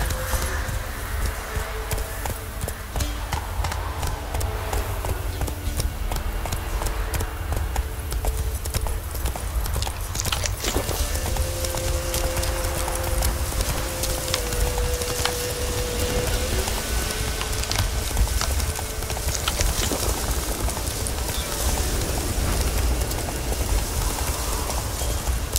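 In The Witcher 3's Skellige isles, a horse gallops with continuous, rhythmic hoofbeats for the whole stretch, over steady rain-like ambience and faint tonal game sounds.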